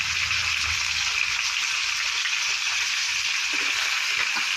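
Chopped potatoes and sweet pumpkin go into tomatoes frying in a pan, producing a loud, steady, close sizzle that holds evenly from start to finish.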